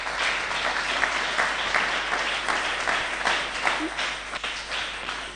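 A church congregation applauds Jesus during a Sunday service, steady loud clapping from many hands filling the room throughout, with faint voices mixed in.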